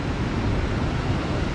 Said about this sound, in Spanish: hasta allá al fondo podemos ver a los surfistas que andan agarrando las mejores olas